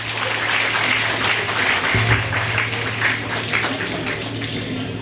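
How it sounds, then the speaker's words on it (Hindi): A hall of young students applauds at a talk, a steady, even wash of many hands clapping, fairly loud and sustained, with a low hum running underneath. "आप जोरदार तालियां बजाइएगा।"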